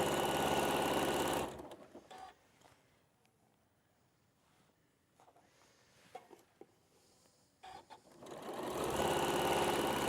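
A sewing machine chain piecing pairs of quilt fabric: loud steady whirring runs at the start and end, with a quiet stretch of faint handling clicks between them.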